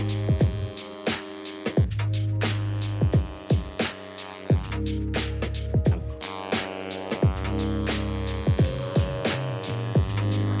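A tattoo machine needling into skin, held near 90 degrees: a steady electric buzz with a low hum runs throughout, broken by regular short clicks and brief pauses, close and alone.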